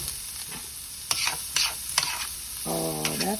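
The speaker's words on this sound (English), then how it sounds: "we'll let that sear up for a hot second" Salmon searing and sizzling in a hot pan, a steady crackle punctuated by several sharp scraping stirs and utensil clicks, ending with a short ringing tone.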